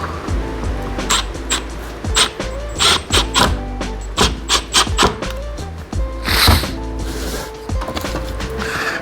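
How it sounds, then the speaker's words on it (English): Drywall screws being cut off in a woodworking shop, a series of close, sharp metallic bursts and squeals over a steady low mechanical hum, with a brief hissing whir near the end. "I'm just cutting off drywall screws."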